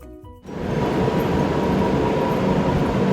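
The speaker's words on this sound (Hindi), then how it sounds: "तो गाइज़ ये है सहारनपुर का रेलवे स्टेशन" A train rumbles through Saharanpur railway station, a loud, steady roar of wheels and carriages that swells in after a brief moment of quieter platform ambience and keeps rolling without a break.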